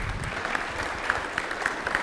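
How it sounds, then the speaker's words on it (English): Audience at a talk applauding, a brief burst of steady clapping from a modest crowd with a few sharper individual claps standing out. "Give him a round of applause."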